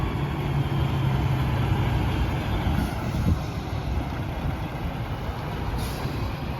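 A 2017 Peterbilt semi truck with a Packard diesel engine runs at a steady idle, close by, with a loud, even rumble throughout and no talking.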